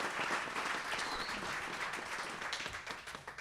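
Audience applause at a cabaret concert by a collegiate a cappella group, a steady, dense wash of clapping from a sizable crowd that continues evenly and begins to thin slightly toward the end.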